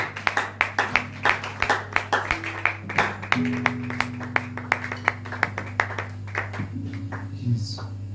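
A church congregation claps in steady rhythm to acclaim the Lord, sharp close claps running throughout alongside a sustained musical tone and faint voices.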